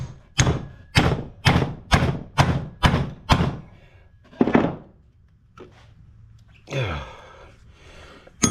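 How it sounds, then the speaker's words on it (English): A chisel knocks against a small 80cc Yamaha quad tire, making about eight evenly spaced, heavy thuds up close. A pause follows, with one more knock and faint scraping and rustling. "take my chisel maybe and try to move that away a little bit"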